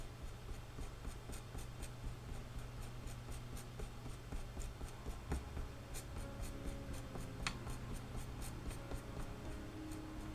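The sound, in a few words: pen colouring on paper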